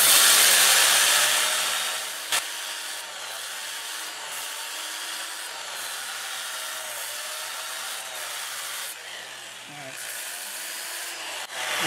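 Sandpaper of 120 grit rubs against a segmented wood-turning blank spinning in reverse at about 400 RPM on a lathe, giving a steady, close hiss with a low motor hum and a few brief knocks.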